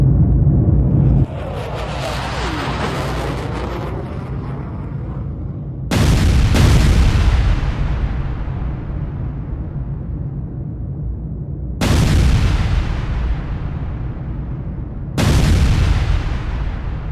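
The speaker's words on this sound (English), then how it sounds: "Airstrikes were called in, jets coming in low, fast, and when they dropped, the ground shook" Airstrike explosions and artillery, several deep booming blasts with long rumbling decays, one heavy hit early followed by three more spaced several seconds apart, loud with no talk.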